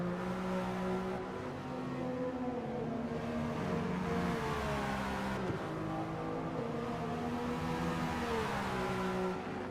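A race car engine in the Gran Turismo 7 racing video game drones loudly and continuously, its pitch climbing and dropping through several gear changes as it accelerates, with no speech.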